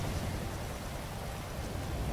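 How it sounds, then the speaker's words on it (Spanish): Rain falls steadily in GTA 5 Online as an even, dense hiss of moderate loudness, with no voices or other distinct sounds over it. "Está lloviendo."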